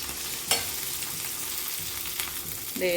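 Semolina neyyappam fries in very hot oil, a dense, steady close-up sizzle with a brief burst as batter hits the oil and more bubbling near the end.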